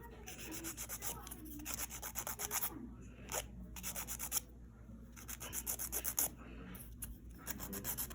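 A nail file rasps back and forth across fingernails during at-home nail care, making quick, even rubbing strokes in bursts with short pauses, close and fairly quiet.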